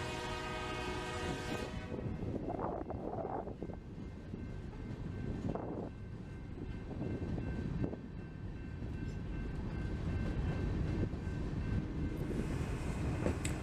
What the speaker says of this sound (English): Here we see CECX number 1919 aboard a southbound Louisville and Indiana Railroad mixed freight train headed south to Jeff Yard